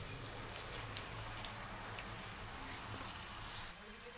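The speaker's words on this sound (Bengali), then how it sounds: "এবার আস্তে আস্তে এরকম ঘুরিয়ে ঘুরিয়ে আমি ভেজে নেব" Bottle gourd koftas fry in hot oil in a wok, giving a steady, fairly quiet sizzle and crackle that dips slightly near the end, with no talking.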